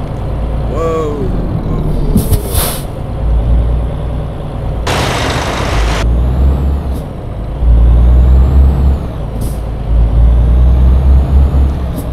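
Truck engine rumbling steadily in the Euro Truck Simulator 2 driving game, with sharp air-brake hisses and a few clicks over the continuous drone, no voice.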